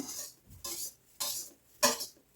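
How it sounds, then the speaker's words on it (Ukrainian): Egg whites being folded into a mixture in a bowl for breaded chops, in four soft scraping, swishing strokes, close and separated by short pauses. "і акуратно все перемішую знизу вверх, як на бисквіт"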